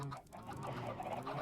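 In a video game, chickens cluck in soft, low repeated calls, fairly quiet and brief, with no talk over them.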